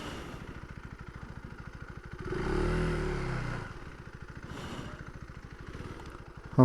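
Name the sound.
KTM 390 ADV R motorcycle engine riding off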